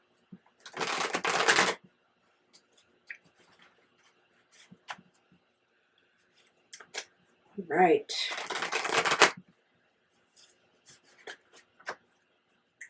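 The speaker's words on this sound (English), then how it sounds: "One more shuffle for you guys." Tarot cards being shuffled in two loud bursts of riffling and rustling, each lasting about a second, with softer card handling and quiet taps in between, close to the microphone; a person speaks briefly.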